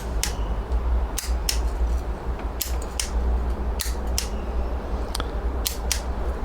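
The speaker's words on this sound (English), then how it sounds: "That is the starter relay clicking." Starter relay on a Honda Ruckus scooter clicking repeatedly, sharp close clicks at irregular intervals of roughly half a second to a second over a low steady hum, no talking.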